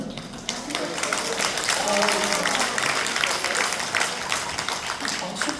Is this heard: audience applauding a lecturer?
yes